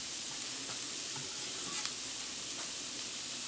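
Chicken fajitas sizzle hard in a frying pan, a dense, steady hiss with faint crackles and occasional stirring scrapes, close and continuous with no talking.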